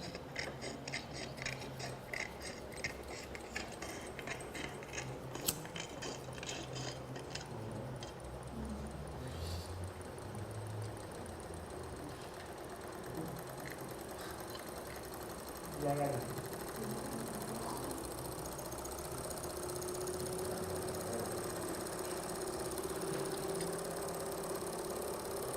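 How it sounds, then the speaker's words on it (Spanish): In a thermal physics class, a small Stirling engine is given a push and keeps running with a steady, rhythmic mechanical whirr and clicking. People talk over it throughout. "Los motores de Stirling son supremamente buenos porque pueden usar cualquier fuente de calor."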